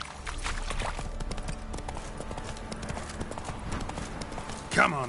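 Roach, a horse in The Witcher III: Wild Hunt on PS4, gallops with a steady, close clip-clop of hooves that runs the whole stretch, with a brief louder burst near the end.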